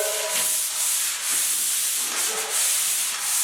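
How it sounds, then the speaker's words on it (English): A drywall ceiling is finish-sanded flat with steady, close, continuous rubbing and scratching strokes that swell and ease in a loose rhythm, with no talking. "So this is how I sand the flat."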